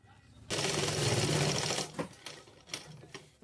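A sewing machine stitches a blouse in a steady whirring run of over a second, close and fairly loud, then gives way to a few short bursts of stitching and handling.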